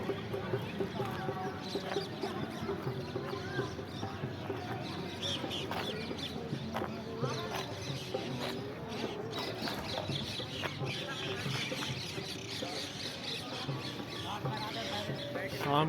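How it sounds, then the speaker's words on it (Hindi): Evening birds gathering near their nests in historic Orchha, a dense, busy chorus of overlapping chirps and clucking calls that continues without pause, with voices murmuring underneath. "चिड़िया अपने अपने घोंसले के पास जा रहा है। ची ची ची ची करके आवाज़ें आ रही हैं।"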